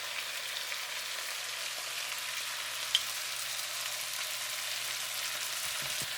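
Pork riblets with chili paste and soy sauce stirred in a hot pan for a Chinese riblet and daikon dish, giving a steady, even sizzle that holds throughout with one brief clink near the middle.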